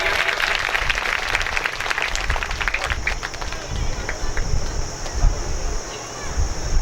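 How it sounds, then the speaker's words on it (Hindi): An audience at a religious katha recital about Rukmini's wedding claps loudly and continuously, a dense steady patter of many hands, with some voices mixed in. "एक बार इनके लिए जोरदार तालियां बजाओ भैया।"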